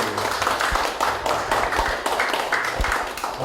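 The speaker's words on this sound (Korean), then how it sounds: "박수하겠습니다." Hands clapping at a Korean pilgrimage-trail guide training graduation ceremony, a moderately loud patter of applause with some distinct individual claps standing out near the listener.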